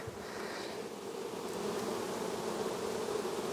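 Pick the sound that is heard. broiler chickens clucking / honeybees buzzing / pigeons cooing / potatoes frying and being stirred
honeybees buzzing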